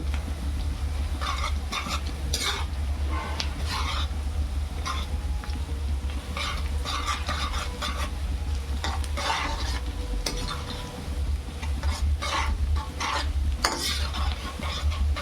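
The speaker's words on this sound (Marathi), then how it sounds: "कांद्याचा लाल कलर होतोपर्यंत तळून घ्यायचा आहे आपल्याला" Onions fry in a pan for tuna fish biryani, a steady sizzle under repeated scraping and clinking as a spoon stirs them around the metal pan, close and continuous with no talk.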